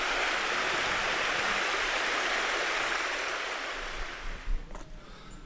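Stream water rushes steadily at a woodland swimming hole, a loud broadband wash that eases slightly near the end, with a brief knock.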